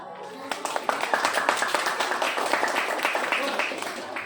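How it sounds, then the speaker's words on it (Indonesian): Children in a classroom clap together after a quiz answer check, a dense rapid patter of small hands close by with a few louder claps standing out, steady for several seconds. "Oke, tepuk tangan."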